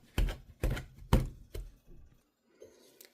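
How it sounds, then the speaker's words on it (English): A pastry blender cuts butter into the cornmeal dry ingredients for homemade cornbread, making a series of about six close, dull rhythmic thunks against a bowl, followed by softer scraping, with no speech. "we are breaking this butter down with the dry ingredients"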